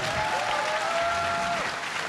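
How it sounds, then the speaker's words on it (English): A panel audience at LTX 2019 applauds, a dense even clatter of clapping hands that holds steady for the full stretch, with a faint tonal whistle sounding briefly above it. "Round of applause"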